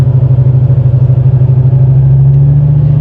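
A 1987 Monte Carlo SS V8, plagued by bent water pumps, idles close by with a steady, even low rumble and a faint regular pulse throughout.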